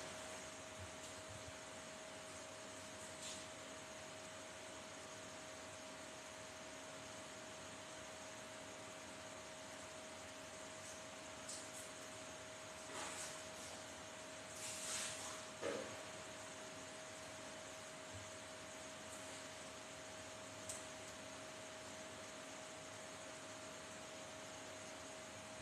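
An electric fan running, a steady broadband whooshing drone with a faint tonal hum, constant for the whole stretch, with a few brief soft knocks and rustles.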